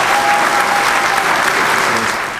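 Applause from a school audience celebrating a National Blue Ribbon high school, a dense, steady wash of clapping that stays loud throughout and tapers slightly at the end.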